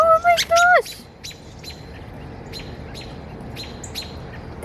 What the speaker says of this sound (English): There's a nest full of birds right here. They just jumped up and started chirping at me.